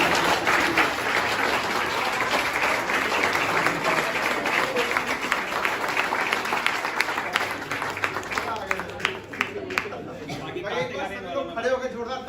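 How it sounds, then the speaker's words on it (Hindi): An audience at a Republic Day stage performance breaks into loud, sustained clapping and cheering, thick and close at first, then thinning into scattered claps, chatter and laughter. "खड़े होकर जोरदार ताली मारो"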